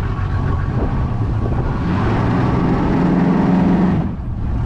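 A Yamaha F225 jet outboard engine drones steadily at low throttle in reverse, a close, loud, even hum that dips briefly near the end, with no voices.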